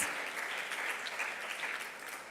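A large audience applauds the speakers at a student talk event, a dense, even wash of clapping that holds steady from start to end, fairly distant and with no voices over it.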